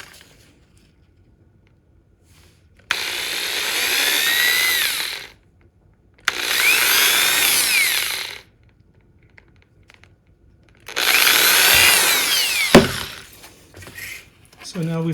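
A power drill boring holes into a wooden stick in three separate bursts of a few seconds each, its whining grind loud and close, with quiet pauses between bursts and a sharp knock near the end.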